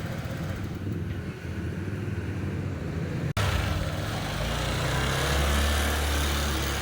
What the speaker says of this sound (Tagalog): kung makikita nyo, umaandar ng motor